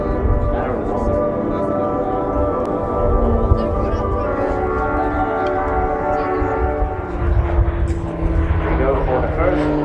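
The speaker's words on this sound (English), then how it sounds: "he reverses the aircraft, full power, climbs for the second half loop" A Swiss Air Force Pilatus PC-7 propeller aircraft flying an aerobatic display, a steady loud engine drone rising at full power for a climb, with a commentator talking over it throughout.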